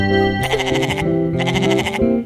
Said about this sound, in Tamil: மேமெனு கத்தாதே ஆட்டுக்குட்டி ஆட்டுக்குட்டி அங்கே துள்ளாதே